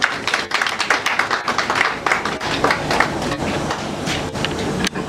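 An audience at a community event in Lingwala applauds loudly, with dense, continuous clapping that holds steady for several seconds.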